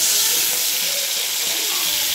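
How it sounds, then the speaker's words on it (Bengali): Prawns fry in a hot pan, giving a loud, close, unbroken sizzle with faint stirring underneath. "চিংড়ি মাছ ভাজা হচ্ছে"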